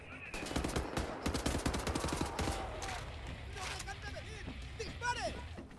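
Bursts of machine gun fire rattle in Wolfenstein: The New Order, rapid close volleys in the first few seconds, then quieter scattered shots and effects while a voice speaks over the fighting.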